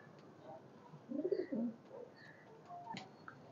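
Golden pigeon cooing near and soft over faint background noise, a short burst of low throaty coos followed by a quieter one.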